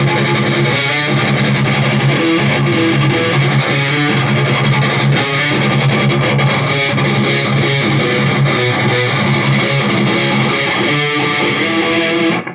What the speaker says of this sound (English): It has a nice distortion ring to it.